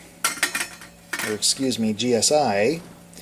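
A small GSI 3/4 liter pot set onto a camping stove with a few close metallic clinks and scrapes, followed by someone talking.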